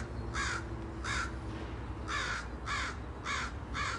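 Crows give six loud, harsh caws nearby, spaced mostly in pairs over a quiet background hum.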